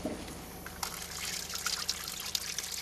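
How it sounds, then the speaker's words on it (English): Water flowing through a rehabilitated shaft-in-shaft manhole after temporary seals are removed: a steady trickling and splashing flow that grows busier partway through, moderately loud and unaccompanied by speech. "the temporary seals can be removed to allow the water to flow through the new Hobus manhole"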